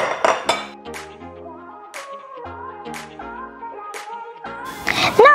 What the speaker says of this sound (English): I'm going to take 2 scoops of this slaw and put it into this bowl